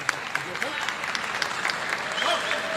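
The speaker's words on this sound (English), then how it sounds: "And a warm applause from the audience." A boxing match crowd applauds in a continuous wash of clapping while a commentator talks over it.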